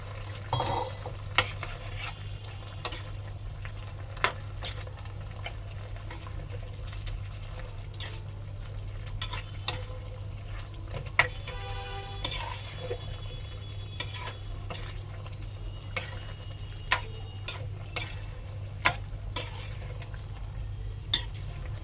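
Okra pieces go into meat cooking in a pan, with steady stirring, scraping and utensil clinks over a constant low hum, with occasional sharp taps throughout.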